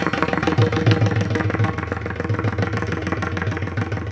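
A mridang drum plays at a kirtan, with deep, rounded beats thudding in a steady rhythm under dense, busy ensemble sound, close and loud throughout.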